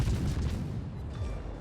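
Destroyer guns in World of Warships fire in a quick series of muffled booms and rumbling bursts, fading to a low rumble, with no talking.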